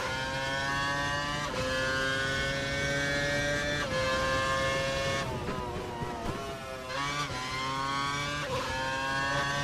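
A Formula One car engine in the F1 2012 video game screams loudly, climbing in pitch through several rapid gear shifts, each shift dropping the tone before it revs up again.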